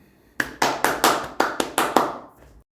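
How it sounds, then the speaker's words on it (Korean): A single person claps hands eight times in quick succession, sharp close slaps at an even brisk rhythm, alone with no talking. "제가 박수를 친 거고요"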